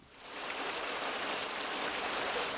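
Monsoon rain in Bangladesh pours as a dense, even hiss that rises in the first half second and then holds steady and loud throughout.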